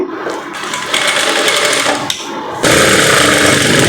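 Sewing machine stitching the back side of a short gown made from three meters of cloth: a loud, close mechanical whirr that runs in bursts, briefly pausing, then speeding up into a faster, louder stretch of stitching.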